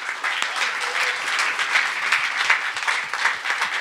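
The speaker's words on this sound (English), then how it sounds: "Round of applause for them." A room at a pre-race press conference for a SuperMotocross round in Anaheim applauds the riders with brisk, continuous clapping from a modest crowd, close and fairly loud, with a few louder claps.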